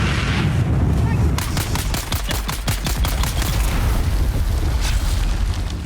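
An enemy fires rapid, loud gunshots in Dune Awakening during a raid on Sentinel City, a dense burst of sharp cracks over a constant rumble of background noise.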